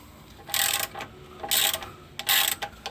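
Someone works a ratchet on a sway bar bushing bolt of a Dodge Ram 1500. It gives three short bursts of close, crisp clicking, separated by brief pauses.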